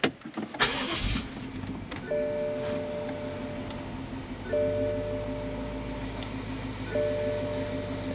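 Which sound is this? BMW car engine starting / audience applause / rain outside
BMW car engine starting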